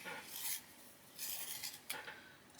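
A pencil in a handheld sharpener gives three short bursts of scraping, grinding rasps, quiet and close, with no talk.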